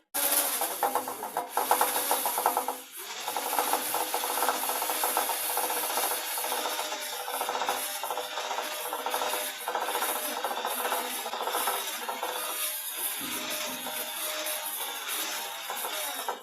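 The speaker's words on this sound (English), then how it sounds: "we're going to use our handy little mixer, and we're going to start mixing this" A small handheld electric mixer whips egg whites in a bowl, a steady, loud, continuous whirring and rubbing drone close by, lasting throughout without pause.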